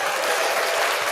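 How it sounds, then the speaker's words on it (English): Dense, steady clapping from a group of people, continuous and fairly loud throughout with no voices standing out. "I got the little clap."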